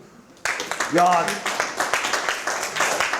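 Audience members in a science lecture hall break into brisk clapping right after a voice calls out, with an excited exclamation over the start and the applause continuing fairly close and steady.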